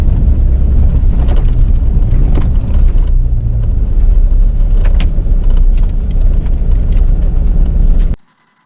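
A 2019 Ford Raptor truck drives off-road in Baja mode, its engine and tyre rumble loud and steady with wind buffeting the microphone, then cutting off abruptly at the end.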